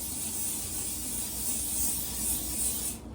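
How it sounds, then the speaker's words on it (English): A steady, close hiss of cooking oil sprayed onto a pan lasting about three seconds, then cutting off abruptly. "I'm going to spray it so the stuff does not stick"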